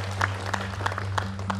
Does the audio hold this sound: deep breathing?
no